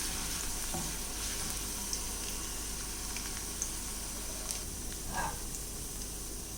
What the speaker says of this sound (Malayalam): എണ്ണ ചൂടായിട്ടുണ്ട്. പച്ചമണമൊക്കെ ഒന്ന് മാറുന്നവരെ, ഒന്ന് വാടി വരുന്നവരെ ഒന്ന് വാട്ടിയെടുക്കാം.